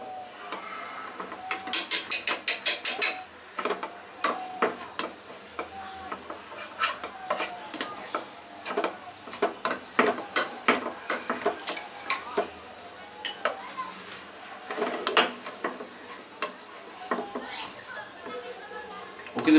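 A spoon mashes and scrapes fresh chhana with a teaspoon of ghee in a sweet-shop kitchen, giving a run of close, irregular clinks and taps over continuous soft background noise.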